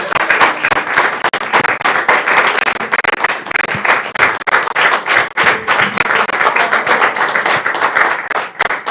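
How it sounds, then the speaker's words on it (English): Dense, sustained applause from a graduation audience at a launch event, many hands clapping loudly and continuously with a few sharper claps poking through. "Keep clapping, keep clapping."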